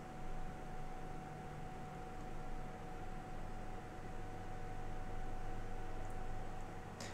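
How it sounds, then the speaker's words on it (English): A faint, steady whir of an electric fan runs continuously with a low hum underneath, and nothing else breaks through. "I apologise if you guys can hear any sort of fan in the background"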